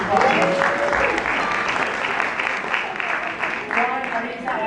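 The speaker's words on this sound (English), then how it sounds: "let's give him a round of applause" A graduation ceremony crowd gives a sustained round of applause, dense and even, clapping steadily for the full stretch with voices mixed in.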